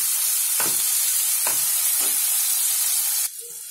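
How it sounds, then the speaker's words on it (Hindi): Potatoes with green chillies fry in a pan for sabudana khichdi. A loud, close, continuous sizzling hiss is broken by three stirring scrapes, then drops sharply quieter at the end. "आलू हमारे भून रहे हैं"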